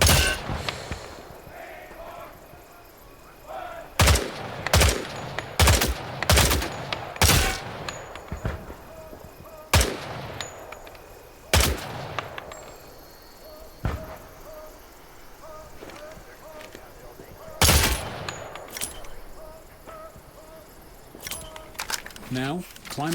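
Gunshots ring out in a video game combat tutorial, with targets and helmets being hit, arriving in loud, sharp single shots and quick bursts spaced irregularly over a quiet background hum.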